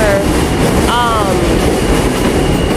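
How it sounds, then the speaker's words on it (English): A J subway train at Broadway Junction station roars close by, a loud, steady rumble with a wheel squeal rising briefly in the middle and no voices heard. "So the train is gonna make a lot of noise while I'm out here."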